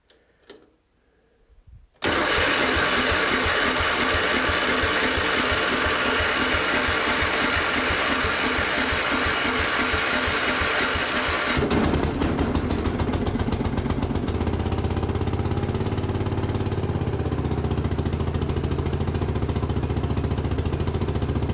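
Case 224 garden tractor engine, not run for a couple of weeks: a faint click, then it fires and settles into a loud, steady close-up running drone whose pitch and roughness shift partway through, with no talk.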